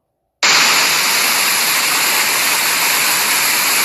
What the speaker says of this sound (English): That water is still coming.